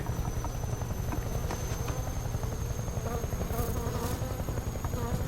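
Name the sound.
Soviet helicopter rotor in video game Metal Gear Solid Delta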